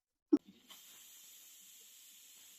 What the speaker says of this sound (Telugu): 3 విజిల్లు వచ్చినాయి కదా